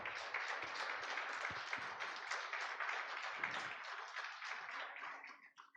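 A church congregation applauding during a sermon: sustained, dense clapping from many hands fills the room at even strength, then thins and fades out near the end.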